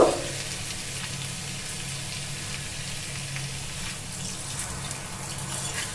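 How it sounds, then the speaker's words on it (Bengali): Water is poured into a pan of spicy potato curry, the aloo tarkari served with hing kochuri, making a steady, close sizzling gush that holds evenly for several seconds with no talking. "এবার আমি এতে কিন্তু জল অ্যাড করব"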